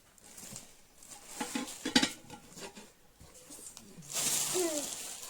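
Pots and pans clank and scrape close by in a few irregular bursts, followed by a brighter rattling at the end.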